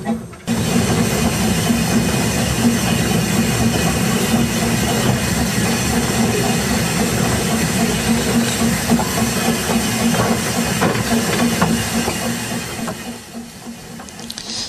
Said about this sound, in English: the engine has to run round the train and back onto the other side